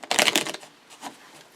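Playing cards are shuffled by hand during a card trick, a quick close riffle of crisp flutters that tails off into a few softer clicks, quiet and without speech.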